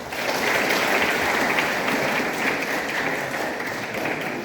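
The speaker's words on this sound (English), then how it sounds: "Clap for yourself." Audience members applauding themselves at a motivational talk, a dense, loud, continuous roar of many hands clapping that holds steady throughout.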